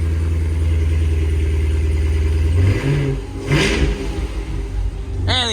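A stock Cadillac Escalade V engine revving close by, a steady loud drone that drops in pitch near the midpoint, then blips and surges again toward the end.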